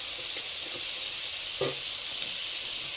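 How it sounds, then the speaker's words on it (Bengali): Chopped tomatoes go into a masala sizzling in a pan while cooking okra roast, giving a steady hiss of frying with a few soft plops and clatters. No one speaks. "এবার আমি কেটে রাখা টমেটোগুলো দিয়ে দেবো।"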